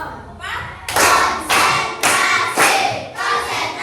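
A school class performs a clapping routine together, the children striking loud unison claps in a quick uneven pattern of about five bursts, with voices mixed in between.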